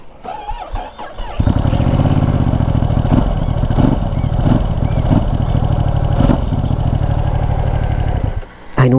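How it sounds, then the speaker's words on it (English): A Ducati Multistrada V2S motorcycle engine cranks and catches after a second, then settles into a loud, close, steady throbbing idle with slight rhythmic pulsing, dipping briefly near the end. "So I'll just turn this motorcycle on."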